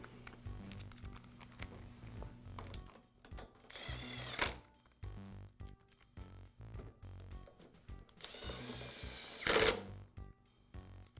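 A power screwdriver drives carburetor base screws on a Briggs & Stratton small engine, giving short whirring bursts close by, two clearly louder around four and nine and a half seconds, with clicks and handling noise between.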